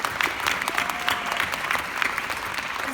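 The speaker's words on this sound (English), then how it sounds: "Give a round of applause to all of you" An audience at a Nu Skin team elite trip event applauds in a steady, dense wash of many hands clapping, sustained and fairly even throughout with no speech over it.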